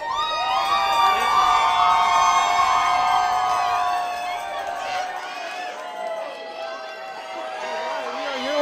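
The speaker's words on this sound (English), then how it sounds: "Okay, let's get a cheer." An audience at a teachers' awards ceremony cheers loudly, with high children's shouts and whoops over a steady crowd roar that eases slightly partway through.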